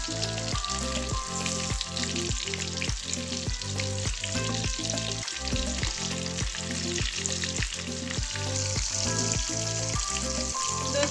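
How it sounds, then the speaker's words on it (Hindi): Chicken pakoda frying in hot oil sizzles steadily and crackles without pause, overlaid by regular, even thumping pulses, with a single spoken word at the start. "चिकन एक तरफ से पक चुका है, अब हम इसे पलटा देंगे।"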